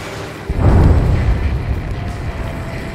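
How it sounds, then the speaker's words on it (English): A huge underwater explosion in the Ace Combat 7 flight game, a deep muffled boom that swells suddenly after a quiet moment and rolls into a long rumbling decay, with no talk. "A huge explosion just went off underwater."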